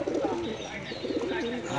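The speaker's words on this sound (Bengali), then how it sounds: "এটা কী কবুতর দেখতেছেন" Pigeons cooing close by in repeated soft, throaty rolling phrases that run continuously over a steady background hiss.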